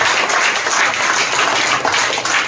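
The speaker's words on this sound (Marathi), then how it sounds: "जोरात टाळ्या वाजवून प्रभू येशूला धन्यवाद" A church congregation claps loudly in a dense, continuous wash of applause that holds steady for the whole short stretch, with no voice over it.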